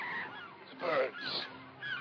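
Goose-like birds honk in a few loud, separate bursts, each rising and falling, with a quieter call trailing off at the end.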